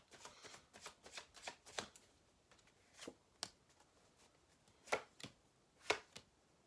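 Heart of the Fairy Oracle cards are shuffled by hand, a run of quiet, close riffling and tapping bursts in irregular clusters, with no voices over them.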